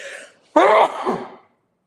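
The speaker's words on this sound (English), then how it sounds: "I have a very loud, obnoxious sneeze" A loud, forceful sneeze bursts out after a brief quiet breath in, then trails off into a softer exhale, close and alone with no talking.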